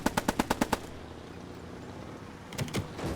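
Gunfire in the Squad 44 World War II shooter game: a quick burst of about six evenly spaced automatic shots, loud and close, followed by a quieter stretch and a few softer shots near the end.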